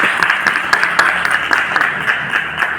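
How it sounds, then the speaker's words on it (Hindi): An audience at an open meeting in Punjab, India claps loudly to welcome a speaker, a sustained crowd of hands with distinct individual claps standing out near the microphone. "एक जोरदार तालियों से स्वागत करेंगे"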